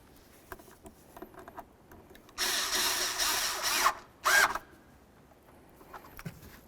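Power tool tightening transmission mount bolts on a 2007-12 Nissan Altima, one loud sustained whir of about a second and a half followed by a brief second burst, with faint clinking before and after.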